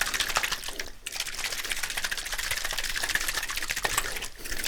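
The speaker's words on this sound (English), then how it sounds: "activate the water here, because this is spring water we're using" A spray bottle of spring water mists hair during a haircut, making a steady close hiss with brief dips, including one clear break about a second in.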